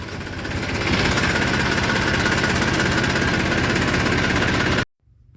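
A farm tractor engine runs steadily with a loud, close, rough knocking diesel rumble for several seconds, then cuts off abruptly to near silence.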